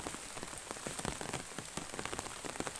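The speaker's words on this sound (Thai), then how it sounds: "ฝนตกเดี๋ยวจะพาไปดูบรรยากาศฝนตก" Steady rain patters and drips on a surface at a rice field, a dense, continuous hiss with scattered sharper drops, no voices.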